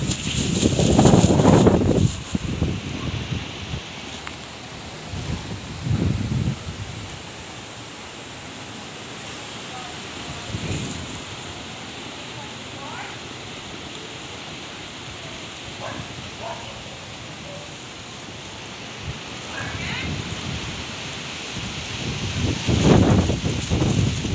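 Strong wind from Super Typhoon Rolly roars and gusts in surges, with heavy rain hissing steadily underneath and loud buffeting bursts hitting the microphone near the start and end.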